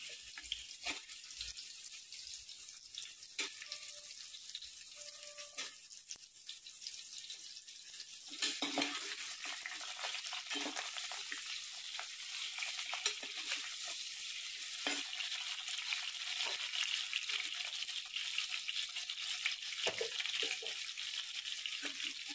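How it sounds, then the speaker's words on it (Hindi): Cubed potatoes and pointed gourd fry in oil over a medium flame, a soft steady sizzle with occasional light stirring clinks, quiet and close, rising slightly partway through. "जब तक ये आलू और पटल फ्राई हो रहे हैं"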